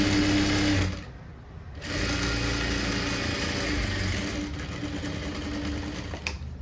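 A sewing machine stitches a blouse in a tailoring lesson, running in steady continuous bursts with a short pause near the start, fairly close and alone.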